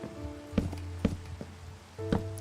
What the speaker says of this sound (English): Is it just me, or is it just like constantly raining in every world I play on?